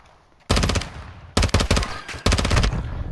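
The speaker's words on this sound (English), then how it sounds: "He's shooting with a pistol." Rapid pistol gunfire in a multiplayer shooter game comes in three loud bursts of quick repeated shots, close and sharp, separated by short pauses after a quiet opening.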